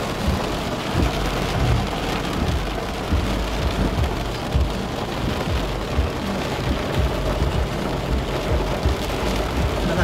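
Heavy rain pours down outdoors in a dense, steady roar with low rumbles of thunder beneath it, loud and continuous with no voices.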